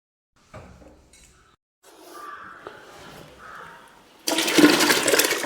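Homemade liquid organic fertilizer for plants, still hot, is handled: a few faint clinks of containers, then a sudden loud, rushing gush of liquid being poured that continues to the end.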